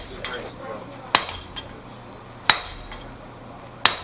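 Blacksmith's hammer striking hot metal on an anvil at a blacksmith conference, three sharp ringing blows spaced about 1.3 seconds apart over a quiet background with faint lighter taps.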